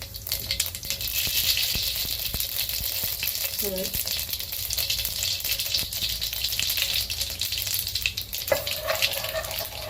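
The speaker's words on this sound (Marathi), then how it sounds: "कढई तापली आहे बघ चांगलं तेल तापले जिरे घालूया मोहरी" Cumin and mustard seeds sizzle and crackle in hot oil in a kadhai, a steady close frying hiss with scattered pops running throughout, plus a brief clink near the end.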